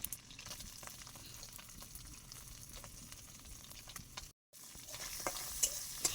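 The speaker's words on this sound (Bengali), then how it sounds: "এখন আমি পেঁয়াজগুলো ভালো করে ভেজে নেব" Chopped onion and garlic frying in melted fat in a pan, a steady soft sizzle broken by quiet stirring clicks and a brief pause partway through.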